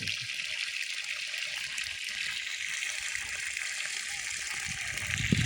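Water pumped up from a groundwater well pours out in a steady gushing flow, continuous and close, with a slight swell near the end.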